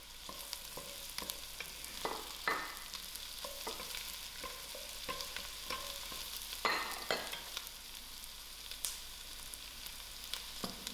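Onions, garlic and carrots fry in a pan for lamb shanks, giving a steady soft crackle with scattered louder stirring scrapes and clicks, close and without talk.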